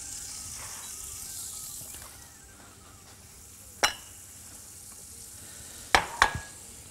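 Butter melting and sizzling in a pan gives a faint, steady hiss that fades slightly, with a few sharp metallic clinks of a utensil against the pan near the end.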